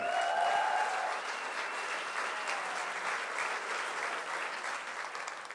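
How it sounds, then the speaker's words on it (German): Audience applause at a charity cancer-benefit concert as a singer is welcomed onstage, a dense steady clapping from a large crowd that stays loud throughout, with a brief sustained tone near the start. "Applaus für Ada Brody!"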